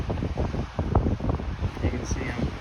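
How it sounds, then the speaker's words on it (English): Strong coastal wind buffets the microphone on the Yaquina Head headland above the sea, with uneven rumbling gusts that pulse throughout the short clip. "It's really windy, sorry again."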